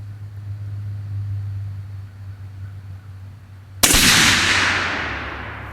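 A single loud, sharp 7mm PRC rifle shot cracks out close by after a few seconds of low background hum, followed by a long echoing decay.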